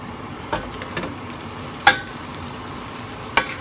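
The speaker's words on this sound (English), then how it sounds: "we just want to mix it well, mix it together" A duck stuffing mixture is stirred in a pan over a low, quiet background sizzle, with a few spaced sharp clacks of a utensil striking the pan and no voices.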